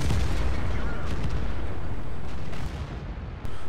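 Heavy boom of a tank gun firing in a World of Tanks-style game, one loud close blast that decays into rumbling echo over a few seconds.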